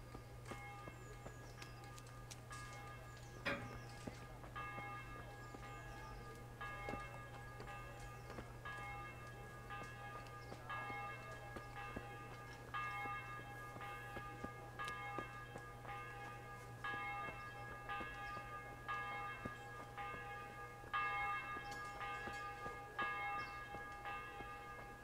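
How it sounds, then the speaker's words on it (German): A church bell strikes repeatedly in a medieval town in the Kingdom Come: Deliverance video game, faint, evenly spaced metallic tolls over a low steady hum and ambient background, with no voices. "Oh, die Glocke schlägt."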